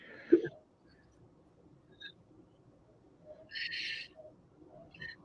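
A plastic cuckoo clock gives soft, hollow coo-like calls, one louder burst near the start and a later cluster, over a quiet room background.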